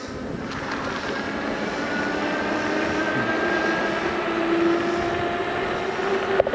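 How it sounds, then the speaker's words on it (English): An e-bike's electric motor whines under throttle with no pedaling, a steady tonal hum that climbs gradually in pitch over a constant rushing background, growing slightly louder as the bike gains speed. "I am just throttling this bike up till we get it to going."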